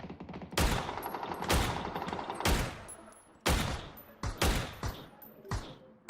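Gunfire in the PC version of PUBG cracks out in sharp, loud single shots and short bursts, about seven or eight in all, spaced irregularly over several seconds.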